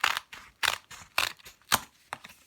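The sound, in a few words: scissors cutting sketchbook paper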